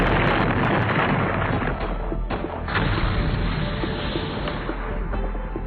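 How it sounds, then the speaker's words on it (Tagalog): Loud, continuous rumbling blasts and crashes of anime explosions in Hunter x Hunter, dense and booming, with no talking. "Sa mga pagsabog na naririnig natin,"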